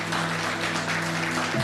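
Sustained applause from a Catholic church congregation, a dense, steady wash of clapping that fills the room, with a low continuous tone held underneath.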